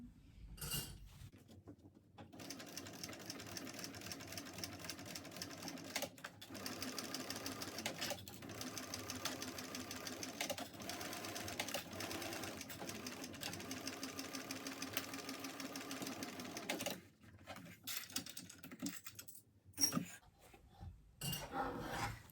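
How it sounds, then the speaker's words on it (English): A sewing machine stitches the side seams of a Vordenza crossbody bag, a fast steady mechanical whir running almost continuously with short pauses, close and clear with no talking. "Now we're going to sew up the side seams."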